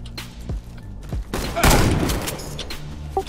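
Gunfire in the first-person shooter Warface during a 1v1 match: a few scattered shots, then a dense, loud burst of rapid fire that trails off into echoing reports.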